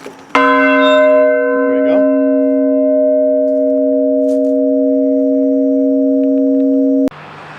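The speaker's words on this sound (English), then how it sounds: "the Paul Revere Bell that is in front of the Henry Knox House, known as Montpelier" A Paul Revere bronze bell outside the Henry Knox House, Montpelier, struck once outdoors, ringing loud and close with a long sustained hum until it is abruptly damped near the end.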